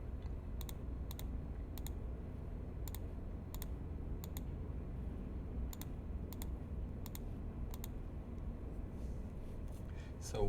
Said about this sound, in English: If I type it in my calculator